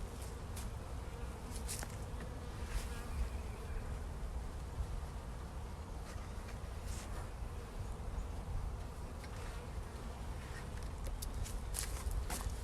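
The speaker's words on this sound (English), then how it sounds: "there's a few bees crawling around on it, but not that much" Honey bees buzz steadily around a robbed-out beehive outdoors, a continuous moderate drone of many wings with occasional louder passes close by and no talking.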